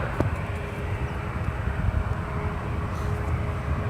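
An Alaska Airlines Boeing 737 MAX 9, two years old, on approach to land at San Francisco International Airport, heard as a steady low jet roar and rumble from a distance, continuous and even with no voices.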